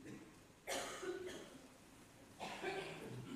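An audience at a meditation seminar in Belgrade coughs in two rough bursts, one fuller and one shorter, heard faintly from across a quiet room.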